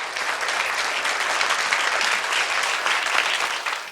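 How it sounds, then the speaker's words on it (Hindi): A crowd applauds steadily at a community event in a Buddhist vihara, a dense, even roar of many hands clapping that lasts throughout without any voices. "इस बार भी आप मेरे लिए ही तालियां बजा लें"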